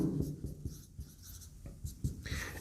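Pen scratching out a math formula by hand on paper, a steady run of short close strokes and taps with small pauses between them, no talking.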